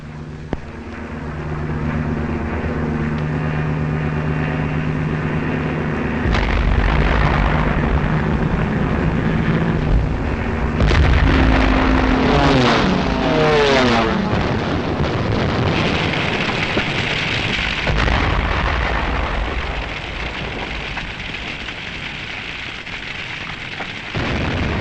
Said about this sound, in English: This was Rotterdam, bombed after the Dutch forces had surrendered.